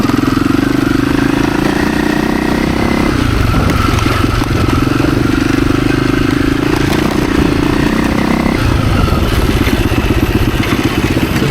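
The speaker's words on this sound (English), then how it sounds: "Oh yeah, plenty of power. I like how this bike feels too." A rare Husaberg dirt bike engine runs loud and close, a continuous buzzing, clattering drone that steps up and down in pitch as the throttle changes, with no talking over it.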